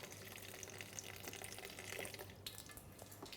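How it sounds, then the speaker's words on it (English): A small amount of water trickles and splashes into a blender jar of raw vegan tomato sauce for lasagna, a faint, steady liquid rush. "A little bit of water to make the blade go around."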